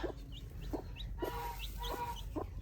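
Easter egger chicken chicks in a coop, several short soft clucks and peeps in an uneven rhythm, close by and fairly quiet over low background noise.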